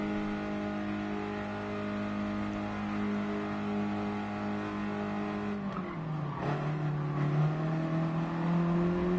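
Race cars in a racing game (Nations Cup, N100 class cars) revving steadily, engine tone holding then dropping and climbing again as they accelerate, continuous and fairly close.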